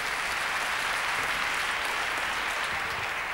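Audience applauding an Italian gymnast's vault at the 2006 Arthur Gander Memorial gymnastics meet in Chiasso: dense, steady clapping from a large crowd that fills the whole stretch without a break.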